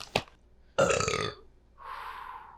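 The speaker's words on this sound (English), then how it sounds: "We burp a lot." A man lets out a few close, loud burps in a home kitchen during cooking, one short belch followed by a longer, rougher one and a trailing breathy exhale, with no talk over them.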